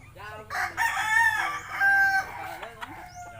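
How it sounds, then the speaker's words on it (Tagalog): A rooster crows loudly nearby, with chickens clucking around it in a busy outdoor farmyard in Cadiz City, Negros Occidental, Philippines. "Guys, daming manok guys"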